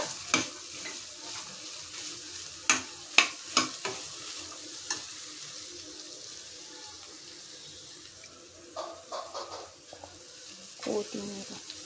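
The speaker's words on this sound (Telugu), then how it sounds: "దీంట్లో వేసి మంచిగా మిక్స్ చేయాలి" Boiled chickpeas being stirred and mixed in a pan for a spicy chickpea dish, with a cluster of sharp scraping knocks early on, a quiet stretch, then further scrapes and clinks over a low sizzle.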